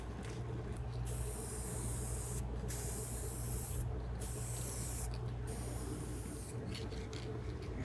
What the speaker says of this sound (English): we're going to move on to spray on our first coat of clear lacquer